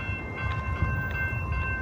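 A long freight train rolls through the middle of Marfa, Texas, a loud, steady low rumble of wheels and cars with faint high tonal squeal, no voices heard.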